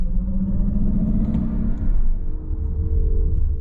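A Mercedes EQS 450+ electric car plays its synthetic acceleration sound, a steady droning hum under cabin road rumble that holds fairly loud for the whole stretch.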